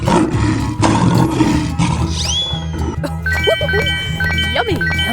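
A lion roars loudly and noisily for about two seconds in a 3D animal slide video game, followed by swooping effects and bright tinkling chimes over background game music.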